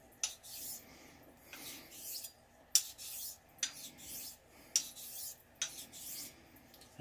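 A straight razor honed with heel-to-toe strokes on an Arkansas finishing stone, a steady run of close, raspy scraping strokes repeating about every second, each starting with a sharp edge then fading.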